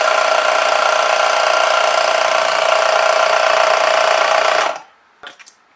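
A CyclePump 12v compressor inflating a tyre runs with a loud, steady buzzing drone close by, then cuts off abruptly near the end, followed by a few faint clicks and handling noises.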